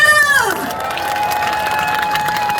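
A festival crowd at an outdoor song contest claps and cheers, a continuous wash of applause with shouts, as a loud sung or sustained vocal tone fades out and a steady tone lingers above the crowd.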